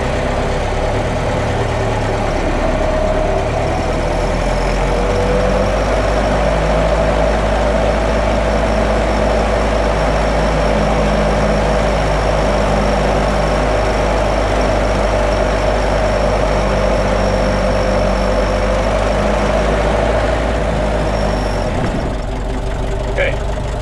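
Ford Model T engine labouring up a hill in low gear, a loud steady low drone with constant mechanical rumble, heard up close throughout.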